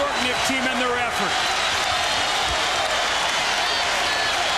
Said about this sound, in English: listen to the New York crowd cheer their team